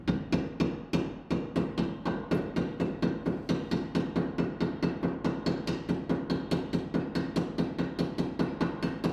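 A hammer drives a press-fit bottom bracket bearing into a BMX bike frame. About forty sharp metallic strikes come in a fast, even rhythm, close and loud, with no talking.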